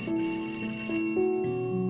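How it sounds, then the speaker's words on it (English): A shrill electronic doorbell chime rings in the visual novel game florAtelier, a sequence of bright stepped tones sounding clearly and loud on its own for about two seconds, with no voices. "you head on over and ring the doorbell"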